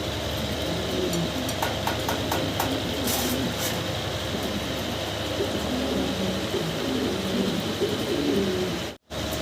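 Soft, continuous cooing of fancy pigeons fills the background, steady throughout with a mechanical hum underneath and a brief dropout near the end.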